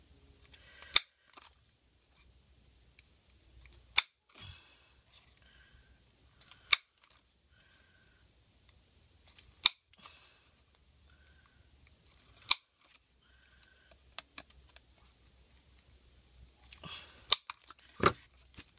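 Scissors cut into a paper circle to form a gear, giving crisp, isolated snips at roughly even intervals with a quick cluster near the end, close and fairly quiet.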